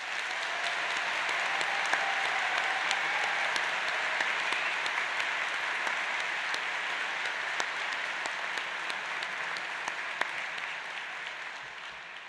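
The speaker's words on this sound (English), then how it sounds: "So a round of applause to you, today's graduates." A large audience at a Manchester degree ceremony applauds the graduates with steady, dense clapping that holds evenly throughout and fades slightly at the end.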